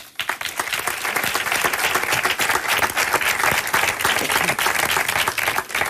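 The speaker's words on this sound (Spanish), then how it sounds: "El aplauso para el padre" An audience at a flamenco event applauds, a dense, steady wash of clapping from many hands that holds loud and even for the whole stretch.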